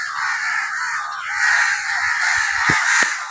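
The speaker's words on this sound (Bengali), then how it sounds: "দেখো সব পাখি ওপরে কা কা কা কা করছে" Several crows caw overhead in a loud, steady chorus of harsh calls that runs throughout, with no talk.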